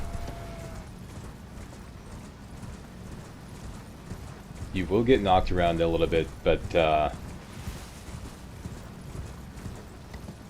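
A horse gallops in the video game Elden Ring, a quick run of clip-clop hoofbeats that swells for a couple of seconds while someone talks over the game sounds.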